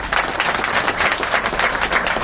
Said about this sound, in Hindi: साथियों एक बार तालियां मुख्यमंत्री जी के लिए